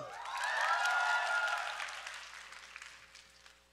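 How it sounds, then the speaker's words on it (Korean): A concert audience at a seventh-anniversary live show bursts into applause with a rising cheer, then the clapping thins and fades into scattered individual claps. "7주년인데 이렇게 박수를 이렇게 쳐주시면 7주년입니다, 여러분!"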